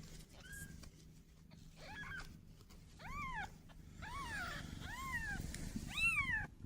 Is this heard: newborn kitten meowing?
yes